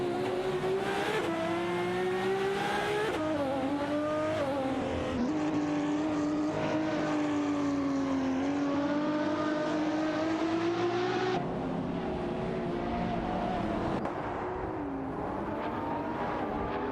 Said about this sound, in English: The Lamborghini Aventador SV is battling the Ferrari 599 GTO for the spot